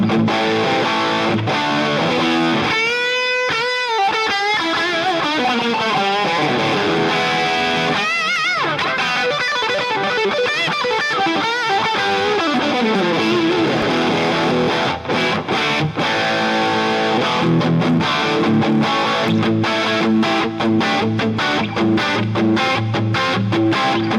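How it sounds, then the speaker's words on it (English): An electric guitar plays through a Convology XT plate reverb, with a distorted tone, sweeping sustained notes and chords washing into a long, dense reverb tail, followed by choppier strummed passages. "we're going to have like a very nice but fairly kind of default plate reverb running now"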